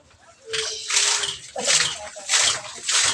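Water gushes in strong surges from a newly installed water pump, several loud splashing bursts in a row. Voices talk excitedly underneath.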